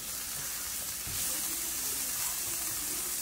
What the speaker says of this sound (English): Okay, so we're going to saute these mushrooms here.